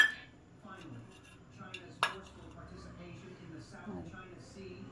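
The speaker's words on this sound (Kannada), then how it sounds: "ನಾನಿಲ್ಲಿ ಸಕ್ಕರೆ ಬದಲಾಗಿ ಬೆಲ್ಲ ಹಾಕ್ತಾಯಿದ್ದೀನಿ." A spoon taps and scrapes against a tea pot while jaggery goes in, with several soft metallic clinks, one sharper clink near the middle, and light kitchen clatter around them.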